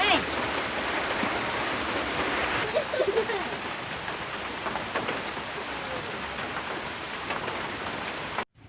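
Steady rain falls outdoors as a dense, even hiss that runs through nearly the whole stretch, with a few brief voices or sounds breaking in faintly around the middle.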